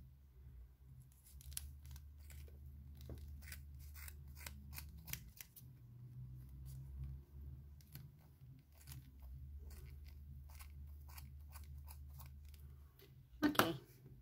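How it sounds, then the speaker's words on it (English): Scissors snipping knitting yarn for a baby bonnet, a series of soft, quick clicks and cuts over a low steady hum, ending in a louder snip near the close. "I think my scissors are not good."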